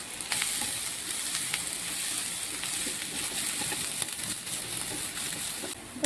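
Onion and grated coconut sautéing in a pan make a soft, steady sizzle with light scraping and stirring clicks close by, no voices.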